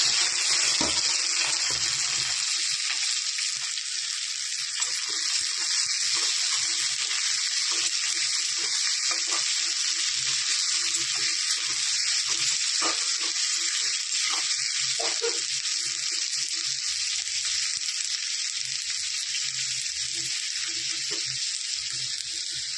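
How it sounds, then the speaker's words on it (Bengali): Onions with cinnamon, cardamom and a pinch of salt fry in a pan, making a steady bright sizzle that holds at a fairly loud level throughout, with faint stirring taps underneath. "পেঁয়াজে একটু লবণ দিয়ে দেবো, তাহলে পেঁয়াজটা তাড়াতাড়ি ভাজা হয়ে যায়"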